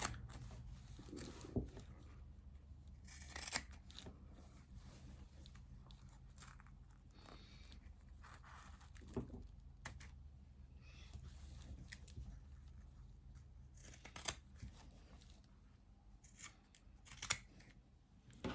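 Sharp scissors trim loose thread ends on a fabric zipped project bag, several crisp close snips spaced irregularly over a quiet background, with no talking.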